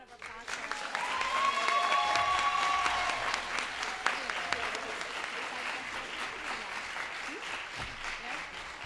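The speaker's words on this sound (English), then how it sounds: "Another round of applause for" An audience claps steadily at the 2025 Breonna Taylor Lecture, a dense roomful of applause that swells within the first second, holds strong, then eases slightly while continuing to the end.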